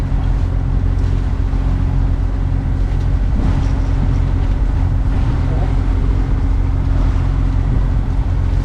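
A sailboat motoring at sea into a 15-knot headwind, its engine a steady low drone under constant wind rush and water noise, unbroken throughout.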